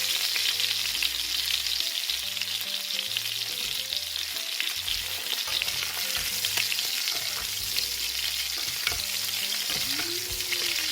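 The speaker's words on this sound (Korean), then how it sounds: "거의 이제 버터로 튀긴다는 개념으로 계속 이렇게 해주시면 됩니다." A sirloin steak fries in a de Buyer iron pan while butter is spooned over it, a steady close sizzle with crackling spatters and repeated spoon clinks against the metal, without speech.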